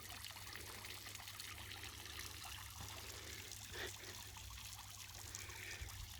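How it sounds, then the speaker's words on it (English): A newly installed garden pond fountain trickles steadily, a continuous soft splash and babble of falling water, quiet and even, with a low hum underneath and no speech. "It's the new pond fountain."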